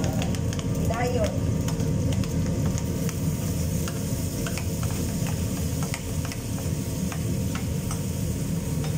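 Chopped tomatoes frying in a hot pan and being stirred, a steady close sizzle with scraping strokes running throughout.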